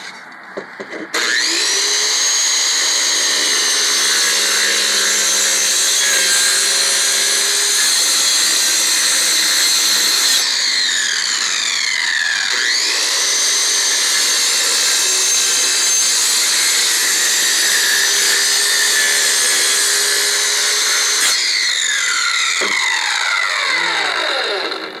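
A power saw cuts wood beneath a cast iron bathtub in a mobile home bathroom, a loud sustained whine under load with pitch dips and recoveries as the blade bogs and frees, close and continuous for the whole stretch.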